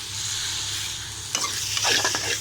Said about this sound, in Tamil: சிம்மில் வச்சுட்டு நல்லா 2 பரட்டுங்க